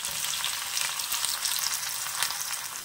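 Chopped onion frying in hot oil to make beresta, a dense, continuous close sizzle with a slightly fluctuating crackle and no voices.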